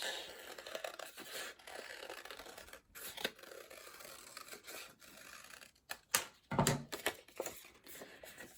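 Scissors snipping through paper while cutting out a vase shape, a series of quiet close crisp cuts and rustles, louder toward the end.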